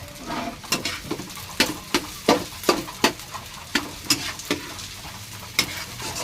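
Fried rice with egg, onion and tomato sizzles in a pan under a steady fry, broken by a dozen or so sharp scrapes and clinks of a spatula stirring at an uneven rhythm.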